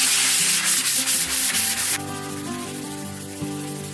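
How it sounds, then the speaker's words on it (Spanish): Sandpaper worked by hand in circles over filler paste on a wall beside a replaced window, rhythmic rasping strokes that are loud for the first two seconds and then give way to quieter rubbing. "intento lijar así o en círculos para quitar estas líneas"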